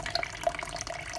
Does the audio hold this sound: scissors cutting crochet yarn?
no